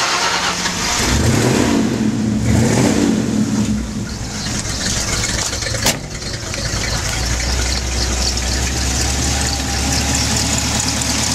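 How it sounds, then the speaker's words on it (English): A Ford V8 engine in a 1973 Bronco cranks and fires up, revs briefly with a deep rumble, then settles into a steady low idle. "It's not like you haven't ever heard a Ford V8 run before."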